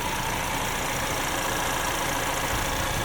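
A 2023 Ford Bronco Heritage Edition's 2.3 liter EcoBoost engine idles with the hood open, giving a steady, even, close-up hum and whir with no talk.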